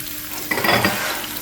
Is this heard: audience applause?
no